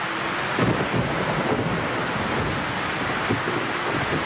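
Rain falling outdoors around a stalled car, a broad steady wash of noise with gusty, wind-like swells and faint low rumbles, continuous and fairly loud with no voices.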